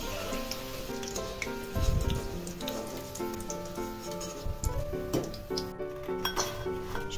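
Pieces of Gondhoraj lemon chicken frying a second time in oil over medium heat, giving a steady close crackling sizzle with a few louder bursts, all over background music.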